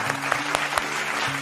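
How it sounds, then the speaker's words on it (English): Nursery school children clap their hands in a classroom, with scattered sharp claps over a background hum. "Clap your hands."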